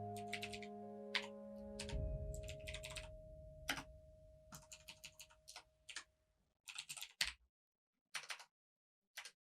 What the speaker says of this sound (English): Should I actually type that out?